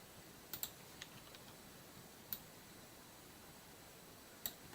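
A handful of sparse keystrokes tap on a computer keyboard, faint and isolated clicks spread over several seconds in a quiet room.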